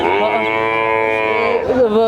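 A single long, loud moo from a Friesian heifer, drawn out for about two seconds with a rich harmonic tone, rising slightly at the end.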